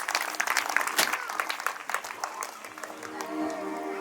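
Audience applause at a church Christmas gathering, a dense steady clatter of many hands clapping together to welcome a speaker, holding fairly even throughout with a few sharper claps standing out.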